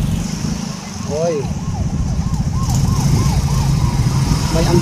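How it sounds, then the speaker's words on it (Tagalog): Ambulance siren wailing in repeated rising and falling sweeps through congested traffic, heard from a motorcycle among engine rumble and road noise, with people talking nearby. "May ambulansya."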